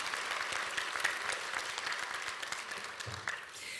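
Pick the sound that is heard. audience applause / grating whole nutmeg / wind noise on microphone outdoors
audience applause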